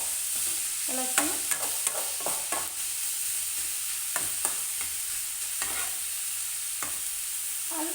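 Carrot thoran stirred in a pan with a steady background sizzle and scattered clicks and scrapes of a spoon against the metal, moderately close, with no voices.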